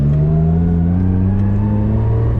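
A modified Nissan Silvia S13 with an SR20 engine revs loudly and close up, its engine note holding a strong, steady drone that climbs slightly in pitch over a couple of seconds.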